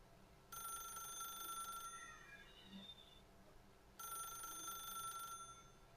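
An old-style telephone in The Stanley Parable rings in two bright, jangling bursts separated by a pause, fairly quiet with a faint electronic tone between rings.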